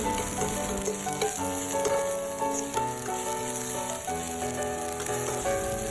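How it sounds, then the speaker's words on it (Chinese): Chopped shallots, cilantro and scallions frying in hot peanut oil in a wok, a steady close sizzle that runs unbroken under a bed of background music. "热锅，加入适量的花生油，加入料头，将它爆香。"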